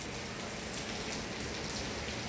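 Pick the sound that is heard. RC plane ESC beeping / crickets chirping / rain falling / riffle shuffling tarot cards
rain falling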